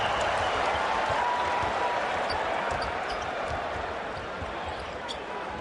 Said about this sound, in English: Hear the buzz in the crowd, can't you?